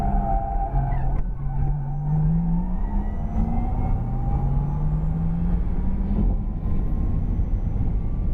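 A 2020 Porsche Taycan Turbo S, about 5,000 pounds, slides through a track corner with a loud, continuous electric-motor whine that rises in pitch as speed climbs, over steady road and tire roar. No one talks.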